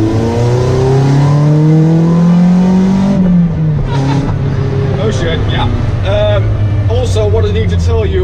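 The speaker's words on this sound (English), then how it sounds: "my exhaust is a bit leaking, so yeah, that's explaining the noise right there" A Lotus car with a leaking exhaust driving, its engine droning loudly and rising in pitch under acceleration, then easing as the gear changes. Someone talks over the engine noise.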